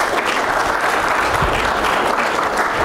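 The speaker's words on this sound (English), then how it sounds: "You want to applaud? Go ahead, applaud." An audience claps steadily after a presentation on managing digital assets, a dense, even wash of hands from many people in a room that holds at the same level throughout with no voices on top.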